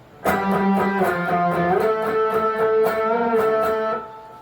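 An electric guitar plays a short riff with a half-step bend and two sharp hits, sustained and clear, with no talking.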